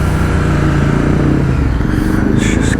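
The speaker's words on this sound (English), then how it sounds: "Yeah, good sound, this engine." A motorcycle engine drones steadily at medium pitch while being ridden, with a continuous close, loud mechanical hum and mild throttle fluctuations throughout.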